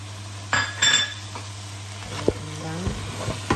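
Crab curry being stirred in a pan after magic cube, salt and curry powder go in, with scraping utensil strokes, a clink and a light sizzle under the stirring, close and moderately loud.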